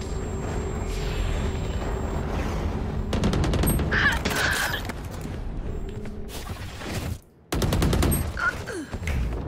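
Rapid gunfire in the tactical shooter Valorant, dense bursts of close, loud shots in several clusters with brief gaps and a sudden drop to near silence before firing resumes, over game ambience.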